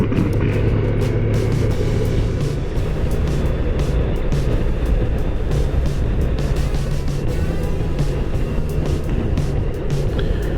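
Steady, loud wind rush with low road and engine rumble from a Honda ST1300 motorcycle under way on a hillside road near Dawson Falls, Mt Taranaki, New Zealand, continuous and close throughout.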